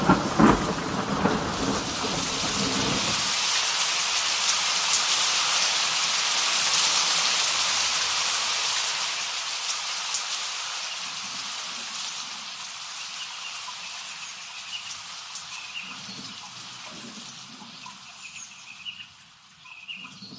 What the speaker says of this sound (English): I know the thunderstorm, it was kind of difficult to talk through all that